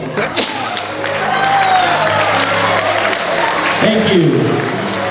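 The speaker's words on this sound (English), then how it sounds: "I would like to ask each and every one of you to give yourselves a nice round of applause." Guests at a wedding reception applaud together, a broad sustained clatter of clapping with crowd murmur and voices mixed in throughout.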